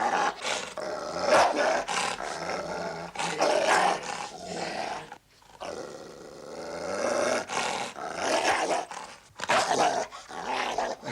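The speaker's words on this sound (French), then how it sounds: "je t'ai déjà dit qu'on ne voulait pas de ce chien ici" A dog growls and snarls in low, rumbling bursts over roughly eleven seconds, with short pauses between menacing growls, close and fairly loud, alone without talk.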